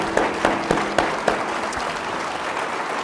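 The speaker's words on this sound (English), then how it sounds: "If we could give the governor a round of applause." A room of business people at a Winnipeg Chamber of Commerce luncheon applauds the Bank of Canada governor, a steady, fairly loud wash of clapping with a few sharper claps standing out near the start.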